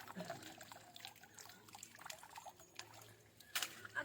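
Vegetables are washed in pond water, giving faint splashes, trickles and drips that come in irregular bursts. A louder splash comes near the end against a quiet outdoor background.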